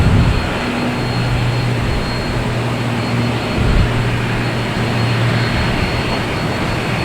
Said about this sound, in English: That should be British Airways A380 coming in.